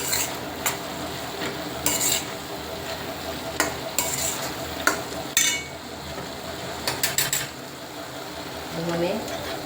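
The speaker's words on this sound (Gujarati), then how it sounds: "હવે આને થોડી વાર માટે હલાવીશું" Paneer-style masala stirred in a pan, a spoon scraping and clinking against the metal in irregular strokes over a low, steady sizzle close by.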